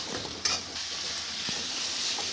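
Spring onion sautéing in sauce over a high flame, a steady close sizzle with soft scraping stirs and a few clinks of a spoon against the pan.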